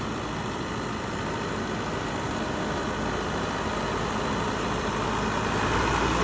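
A DTZ 504 tractor's turbocharged diesel engine runs steadily at close range, a loud continuous broadband roar with a deep low rumble that holds level throughout, with no talking.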